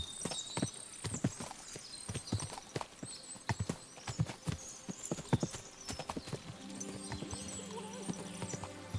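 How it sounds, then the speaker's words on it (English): Many horses' hooves clip-clop in Kingdom Come Deliverance 2, a dense run of sharp, uneven hoof strikes with an occasional whinny, fairly close and steady throughout. "It's a lot of horses."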